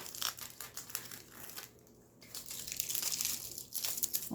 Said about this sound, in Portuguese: eu vou tirar essa fitinha que eu coloquei pra costurar